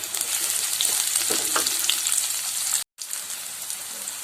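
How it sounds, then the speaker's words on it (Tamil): Sliced onion and garlic sautéing in a pan for veg noodles, a loud, dense, continuous sizzle up close, broken by a brief near-silent gap before the frying resumes. "வெங்காயம் லைட்டாக வதங்கின போதும் வதங்கிடுச்சு."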